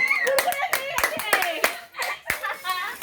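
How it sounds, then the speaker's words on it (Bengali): Sharp hand claps ring out in an uneven burst of about a dozen hits, close and loud, while children chatter and shout over and between them. "হাততালি দে হাততালি দে হাততালি দে"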